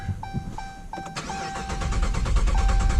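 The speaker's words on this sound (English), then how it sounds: "sometimes it takes a crank or two to get it to fire up." A Dodge Charger R/T running on E85 fuel cranks with a rhythmic, repeated starter whir, then the engine catches and builds to a rising, louder rumble, close and alone.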